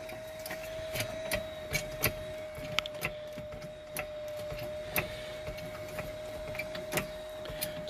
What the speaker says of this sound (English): So we'll have Logan jack the suspension arm back up now, just so we can get the wheel back on